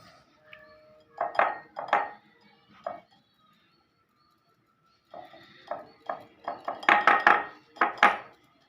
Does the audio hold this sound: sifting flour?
yes